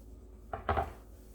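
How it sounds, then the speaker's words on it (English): A kitchen knife slicing through plantain on a cutting board makes two quick, close taps in a row, each soft and brief, against a quiet room. "Now let me cut a little more, just to get more consistency here."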